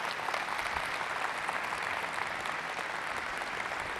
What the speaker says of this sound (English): Can you give them a little round of applause, or a big round of applause?